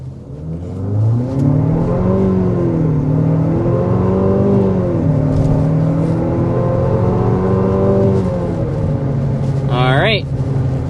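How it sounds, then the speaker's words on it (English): A 2025 Nissan Murano accelerates hard from inside the cabin, its engine note rising steadily through the gears with a brief dip at each shift, loud and close, ending with a quick electronic chirp. "we need to go ahead and start with a hard acceleration"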